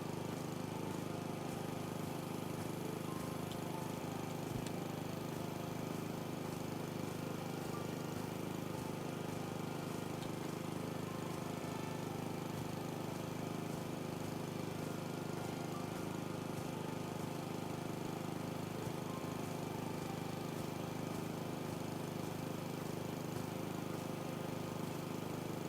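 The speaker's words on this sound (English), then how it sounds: "Break physical space with the lawnmower." A lawn mower running steadily in the video game House Flipper 2, a constant droning engine hum that holds evenly throughout, moderately quiet with no talk.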